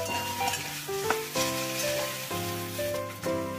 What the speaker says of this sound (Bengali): এর মধ্যে এবারে কুচিয়ে রাখা একটা টমেটো দিয়ে দিচ্ছি, টমেটোটা এর সাথে ভেজে নিচ্ছি।